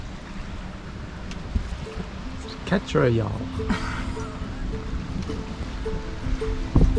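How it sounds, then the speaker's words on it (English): Water laps and washes steadily with a low background rumble of an approaching boat, while people talk and call out nearby. "There's a boat coming in behind me."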